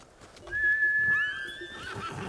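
A horse in the samurai video game Ghost of Tsushima gives one clear, fairly close whinny that rises and then trails off in a shaky descending neigh.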